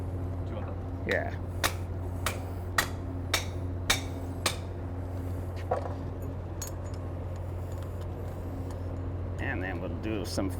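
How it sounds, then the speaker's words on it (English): Sharp metal strikes from hammering a Nicopress swage sleeve onto guy cable, about ten irregular blows, steady then tapering, over a constant low motor or traffic hum with a brief voice. "And then we'll keep hammering."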